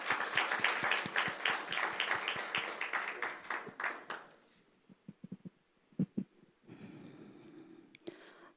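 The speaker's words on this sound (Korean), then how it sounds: "우리 큰 박수 주시기 바랍니다." Congregation applauding during a Sunday morning church service at a Busan Holiness church, a burst of warm clapping for about four seconds that fades into quiet room sounds and a few scattered claps, then soft hum.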